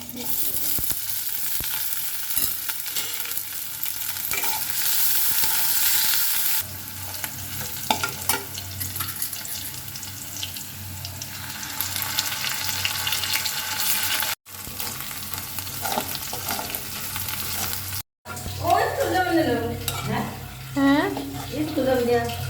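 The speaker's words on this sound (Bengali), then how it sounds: "কাঁচামরিচ লালগুলো ভাজবো এখন তো আমি কড়ার মধ্যে তেল দিয়ে দিচ্ছি" Onion, garlic and red chilies fry in hot oil in a wok, a steady close sizzle with stirring scrapes; someone speaks over part of it and water runs near the end.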